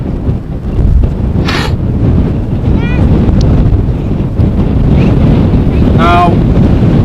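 Strong crosswind at Amsterdam Schiphol airport buffets the microphone with a constant heavy, low roar. Faint whistling and chirping sounds break through now and then.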